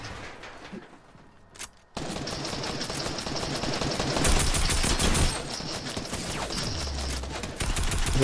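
Rapid bursts of gunfire in the game Fortnite, quiet scattered shots at first, then a loud sustained volley of automatic fire with a few louder single cracks toward the end.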